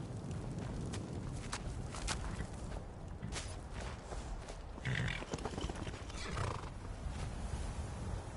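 Horse sounds in a fantasy video game: a whinny and snorts with clip-clopping hooves over a busy ambient background, moderately near, with occasional bursts, no voices.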